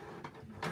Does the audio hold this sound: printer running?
yes